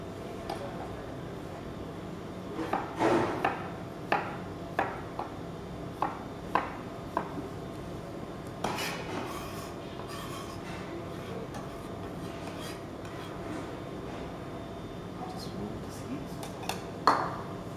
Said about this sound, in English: Same thing we do with the muskmelon. Just cut it into small dices.